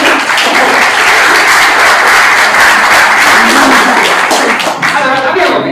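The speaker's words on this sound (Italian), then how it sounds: "Applauso generale." A conference audience at Linux Day Torino 2019 breaks into loud, sustained general applause, a dense wash of clapping that holds steady for several seconds, with a few voices surfacing near the end.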